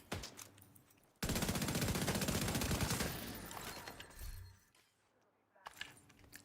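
Sustained rapid enemy gunfire in a PvE shooter video game, loud and dense bursts for about two seconds, then tapering into scattered shots and fading, with a brief quiet gap before more firing.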